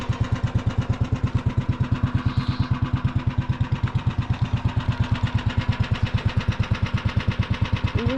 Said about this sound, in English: Engine swap in a golf cart. And a Predator 301.